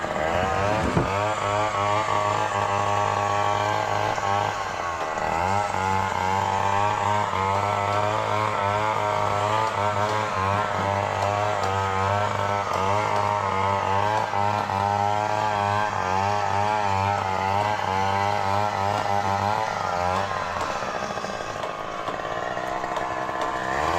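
Small outboard-type motor on a little boat running steadily, a close, droning engine with a buzzing harmonic tone whose pitch wavers slightly as it throttles, continuous for the whole stretch.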